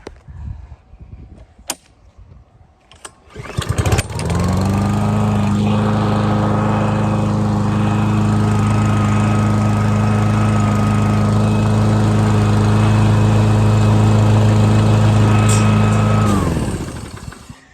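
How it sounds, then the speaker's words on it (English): A lawn mower engine starts up and runs steadily at a loud, even drone for about twelve seconds before cutting off. "I've already got the aerating wheel on the lawnmower, and I'm going to attempt to do this with one hand."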